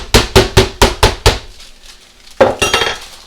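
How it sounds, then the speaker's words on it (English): Wooden mallet pounding a raw chicken breast flat on a board for breaded chicken, five sharp, loud, evenly spaced thuds, a short pause, then another burst of several quicker blows. "when you're hammering this out, oops, you want to make sure that it's relatively even thickness"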